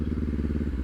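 Motorcycle engine after a downshift, a steady low throbbing idle with even rapid pulses, close and loud over a brief moment, no voices.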